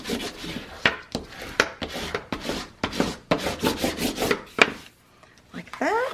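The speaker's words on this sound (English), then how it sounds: "I'm going to flip it over, and I'm going to burnish." Layers of craft paper are burnished by hand in quick rubbing strokes, a close scratchy swishing in uneven bursts that briefly pauses before a final few strokes.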